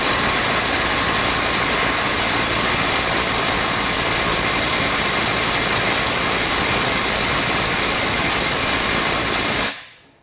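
A DeWalt DCF901 XTREME 12V brushless half-inch impact wrench runs flat out against a bolt, a loud, dense, unbroken mechanical roar lasting about ten seconds before cutting off abruptly.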